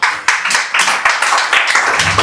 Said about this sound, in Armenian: Եկեք ծափահարենք այդ ընտանիքին։